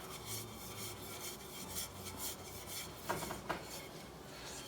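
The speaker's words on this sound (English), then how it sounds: "Now I'm going to take a little bit of flour, sprinkle it in, and coat it with the flour." Flour being sprinkled and rubbed around a 10-inch pie dish greased with Crisco gives a steady dry rasping and scraping, with a couple of sharper taps and knocks near the end.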